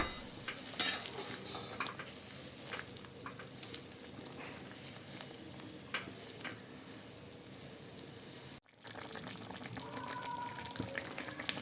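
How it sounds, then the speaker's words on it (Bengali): Fulluri fritters cooking in a pot of sour gravy, a steady bubbling sizzle with occasional stirring scrapes and clinks, briefly cut off near the end before resuming. "ফুলুরিগুলো কিন্তু বেশ কিছুক্ষণ ধরে আমি খুব ভালো করে ফুটিয়ে নেব"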